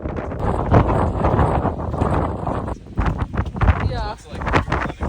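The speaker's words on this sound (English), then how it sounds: "Okay, so it's definitely windy." Strong wind buffets the microphone on the foggy Pacific coast, roaring and gusting unevenly while people talk over it.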